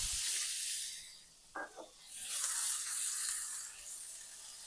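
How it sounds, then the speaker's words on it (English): Ground pork hitting hot oil in a pan for mapo tofu sends up a broad hissing sizzle. It swells and fades across the clip, with a brief clatter partway through, and no one talks over it. "Heat some oil in a pan. Add the ground pork."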